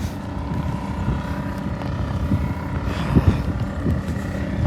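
Wind blows steadily across a sea coast, a low continuous rushing roar with a few gusty bumps, heard without talking.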